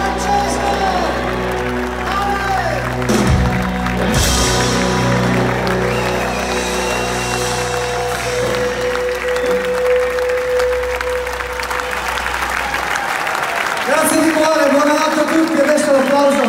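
Concert crowd in Milan applauding and cheering after a rock performance, sustained clapping with occasional shouts and whoops, while someone speaks over it into the microphone.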